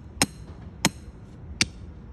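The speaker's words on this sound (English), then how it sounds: "I've got a metal pin that I use to hammer and make a hole" Three sharp metallic strikes, evenly spaced and close, as a hammer drives a metal pin into the ground to make a hole, with quiet outdoor background between blows.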